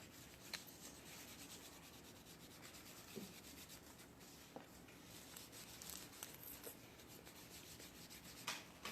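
Steady rubbing of green colour into a juice box surface, a faint continuous scratchy friction with soft repeated strokes, close and quiet with no talk.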